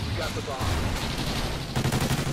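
Rapid bursts of video game gunfire crackle and rattle continuously, with a voice talking faintly underneath throughout.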